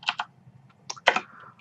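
Short burst of computer keyboard typing while entering a build command: a few close, crisp key clicks in two quick clusters, with no talk.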